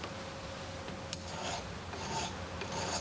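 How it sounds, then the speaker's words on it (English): Sharpening the cutting blade of an electric cutter, a dry rasping scrape repeated in short strokes, close and fairly quiet, with no talking. "The cutting blade requires sharpening every time it's changed."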